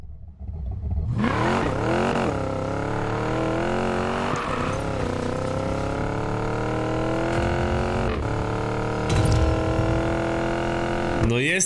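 A tuned car engine in Need for Speed Payback revs hard and loud, climbing and dropping in pitch through several sharp throttle blips and shifts. The engine sounds alone, with no talk over it.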